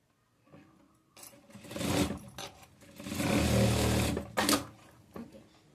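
A sewing machine stitches sleeves onto a readymade frock, running in short close bursts of rapid whirring with brief pauses between.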